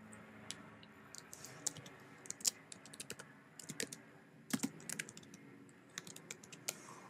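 Typing on a computer keyboard while entering a citation into a Word document, with irregular bursts of close, crisp key clicks spread across the whole stretch.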